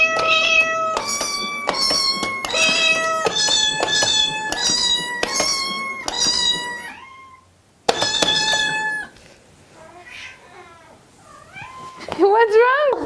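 Cats meow loudly and repeatedly in a home, responding to notes played on a laser keyboard that sound in a steady sequence of bright electronic tones, with drawn-out, wavering meows toward the end.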